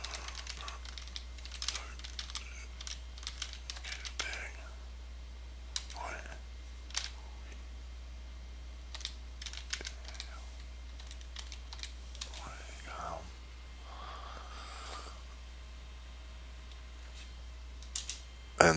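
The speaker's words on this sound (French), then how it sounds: "On tape supporterduquebec.wifeo.com." Scattered keystrokes on a computer keyboard typing a web address, soft clicks in short clusters spread across a quiet stretch over a steady low hum, with brief bits of nearby voice.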